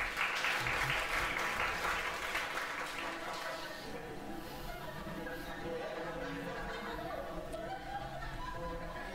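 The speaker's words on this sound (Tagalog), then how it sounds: "Pwede bang marinig ko ang palakpak ng mga humble?" A church congregation at a Sunday sermon breaks into strong applause that gradually thins and fades, with chuckles, laughter and murmured chatter carrying on underneath as the clapping dies down.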